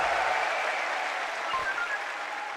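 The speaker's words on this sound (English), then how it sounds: "An eruption from the crowd there," A large arena crowd at a CS2 Major esports event roars and claps in a broad, loud wash of cheering that slowly eases off.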